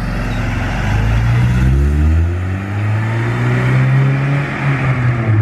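A car with a Honda K24A2 engine and aftermarket exhaust drives past at normal pace, its engine note rising and falling through gear changes, loud and close with a smooth drone and no talking.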